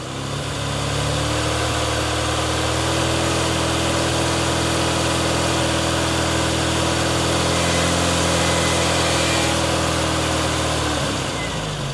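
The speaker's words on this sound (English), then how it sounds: "I'm going to increase the RPM." An Austin Maestro engine runs at steady raised revs with the heater and lights switched on, giving a continuous close hum that holds level for several seconds before dropping away at the end.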